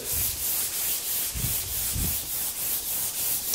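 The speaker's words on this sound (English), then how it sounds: "sanding with the grain" Steady back-and-forth rasp of 280-grit sandpaper on a shop-made sanding block rubbing along wood with the grain, with a few heavier low strokes mid-way; close and continuous, no voices.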